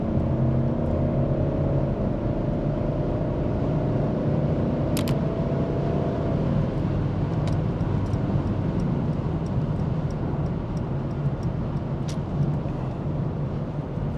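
Steady, loud engine and road roar from a car held at full throttle on an unrestricted highway, droning continuously with a few faint clicks inside the cabin, no talking.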